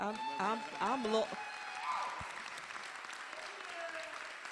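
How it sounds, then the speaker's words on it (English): Audience applause at a talk on ending mass incarceration, moderately loud clapping with a voice talking over the start and some cheering, then thinning out. "Give him a round of applause, please."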